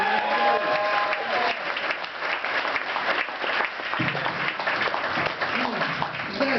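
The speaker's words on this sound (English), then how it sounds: "All right, big hand for Jennifer, everybody." A comedy club audience applauds loudly for several seconds, a dense continuous roar of clapping with some crowd voices mixed in.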